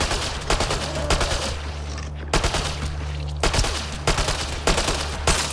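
Bursts of automatic gunfire crack out in Mass Effect Andromeda, loud clustered volleys repeating every second or so with a steady low hum beneath and no talking.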